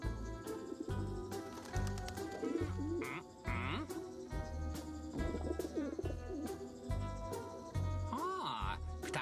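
Pigeons coo in a cartoon, soft repeated calls woven through a busy bed of music with brief voice snatches, the coos recurring every second or so.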